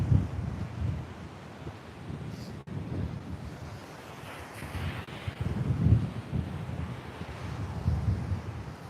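Wind blows over a coastal rock near the shore, a steady low rumble of gusts buffeting the microphone, with the wash of surf faintly underneath and no talking.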